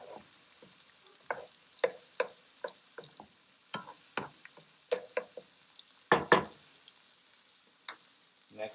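Onions frying in a pan and being stirred around, with soft sizzling under a series of distinct scraping and stirring strokes that are close and moderately quiet, and a louder clatter near the end.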